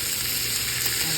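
Butter and garlic sizzle steadily in a hot pan beside a ribeye steak, a continuous close frying hiss with no voices.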